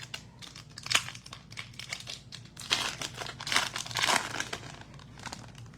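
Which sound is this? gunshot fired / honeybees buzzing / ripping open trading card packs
ripping open trading card packs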